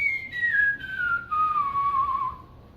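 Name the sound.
person whistling with jaw stuck out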